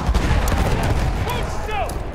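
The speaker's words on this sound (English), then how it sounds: "Spotted a machine gun!" Dense, loud rumbling gunfire from a machine gun in the World War I shooter Battlefield 1, layered with distant booms and whizzing arcs, forming a continuous battlefield roar with no pause.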